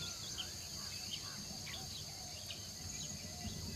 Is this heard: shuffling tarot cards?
no